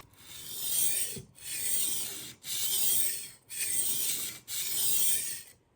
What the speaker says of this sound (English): set the sharpening angle to 20 degrees and make a few passes